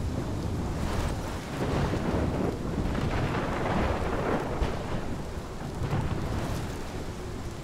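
A thunderstorm in Life is Strange: heavy rain pours steadily with deep rumbling thunder rolling underneath, a dense, continuous wash of noise with no voices.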